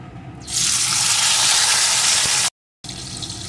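Chopped tomato drops into hot oil with frying whole spices for a prawn malai curry, setting off a loud, steady sizzle that briefly cuts out, then resumes.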